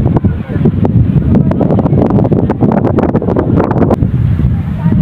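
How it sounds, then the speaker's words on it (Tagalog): Strong wind roars and buffets the microphone in constant heavy gusts at Mount Samat shrine in Bataan, with a voice faintly buried underneath. "Sobrang lakas ng hangin dito guys."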